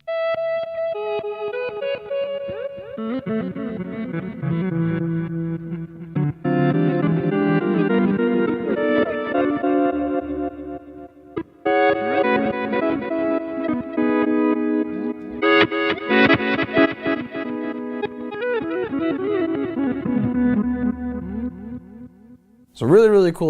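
Electric guitar phrases through a Boss Katana amp with reverse delay, dry mix off, drenched in a swelling effect, notes blooming in backwards and smearing into a continuous wash, fairly loud throughout.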